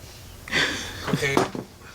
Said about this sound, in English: Let's give it a sniff.